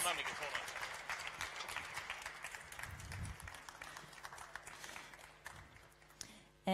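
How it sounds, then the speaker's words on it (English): Applause from the audience for presenters back on stage at a space pitch competition, a dense clapping wash that slowly fades, with voices talking over it. "Let's have these great people up on stage again and give them a big applause."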